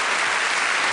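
A Royal Variety Performance audience applauds, a dense and loud wash of clapping filling the hall without a break.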